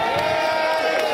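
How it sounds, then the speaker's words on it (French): Loud, continuous crowd noise with shouting and whooping at the Cacador carnival event in Marigot, a sustained roar of voices filling the hall as the queen is welcomed, dense and close throughout. "On applaudit bien fort."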